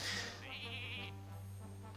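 Sheep bleat from a Hearthstone Polymorph spell in a Tavern Brawl game: one wavering, nasal bleat up close, ringing out over a steady low game hum and fading into a lingering tone.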